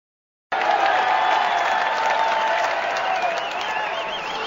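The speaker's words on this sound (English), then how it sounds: "What's all the cheering about?" A cricket stadium crowd erupts into loud, sustained cheering and applause after Sachin reaches a hundred. The roar starts abruptly after a brief silence and holds steady with a faint whistle riding on top.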